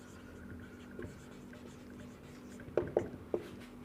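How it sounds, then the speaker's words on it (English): Marker or chalk writes a classroom biology question on a board, giving soft scratchy strokes and a few sharper taps near the end, faint under a quiet room hum with no speech. "I am writing here my question"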